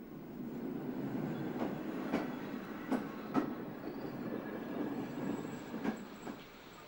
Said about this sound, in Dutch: Uit de richting Namen komt een type 10 binnen.